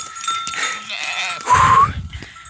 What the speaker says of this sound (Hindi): बकरी बकरी तो सब आ गई घर